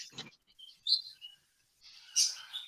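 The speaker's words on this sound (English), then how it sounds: "my bird's all talkative" A pet bird chirps indoors, with a few short, high, thin tweets separated by pauses, close and fairly quiet, with no talk over them.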